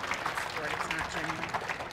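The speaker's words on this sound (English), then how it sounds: "Can we have a little applause for these ministries?" Church congregation at a Grace Bible Church service applauding ministries, a dense wash of clapping blended with murmured voices, moderately loud throughout.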